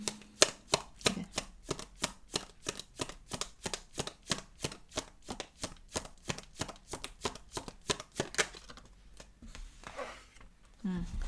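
Tarot cards are shuffled in a steady run of crisp, rapid riffling slaps, close and fairly quiet, ending in a few seconds of softer rustling.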